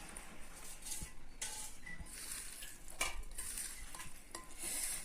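Fried beans being mashed into bhorta in a kitchen, with scattered scrapes, taps and clinks of a utensil against a pot or plate over a faint background hiss, close and quiet, without talk.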